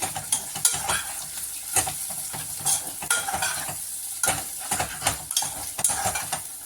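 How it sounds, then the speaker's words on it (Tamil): Green peas are stirred and sautéed with ginger-garlic paste in a hot pan for peas pulao, sizzling steadily under repeated scraping strokes of a spoon against the metal, close and fairly loud, with no voices. "இப்போ எடுத்து வச்சிருக்க பச்சை பட்டாணியை சேர்த்துட்டு ஒரு 2 தடவை வணக்கிக்கலாம்."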